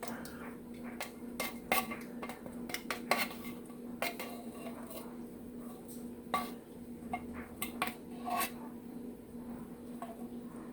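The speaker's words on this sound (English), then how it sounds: "Carefully whisk it in to smooth it out." A whisk scrapes and clinks against a pot while cheddar cheese soup is stirred into a corn and potato chowder, sharp irregular metallic taps over a low steady hum, fairly quiet.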